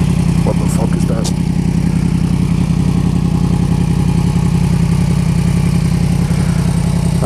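A 2017 Yamaha MT-10 motorcycle engine idles steadily in neutral, a loud, close, continuous low rumble throughout, with a few brief clanks early on.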